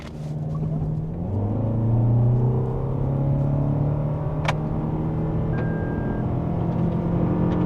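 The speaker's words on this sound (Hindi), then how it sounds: "एक और बार 0 to 100 लॉन्च करके देख लेते हैं" A Toyota Camry 2.5 Hybrid launches from 0 to 100, its engine rising into a loud, sustained drone and climbing in pitch, heard close from inside the cabin with no voices.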